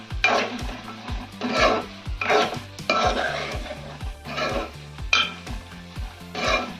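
Chicken pieces being stirred and tossed with chili powder in a pan for gongura chicken, giving repeated scraping clatters of a spoon against metal in an uneven rhythm, close and fairly loud, with no talking.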